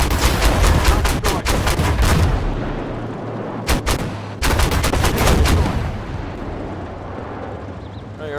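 Heavy automatic cannon fire from a BMPT Terminator in a video game, loud rapid bursts with a brief pause, then rumbling echoes fading out.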